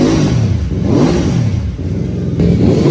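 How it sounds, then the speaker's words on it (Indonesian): A Benda Dark Flag 500 V4 cruiser motorcycle engine revs loudly up close, its deep throaty roar rising and falling over a few seconds. "Bahkan dengan mesin V4 yang suaranya kalian bisa nilai sendiri nih."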